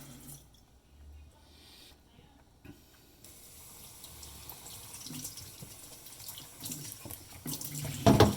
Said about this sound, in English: I'm just gonna wash it off with some water, some cool water.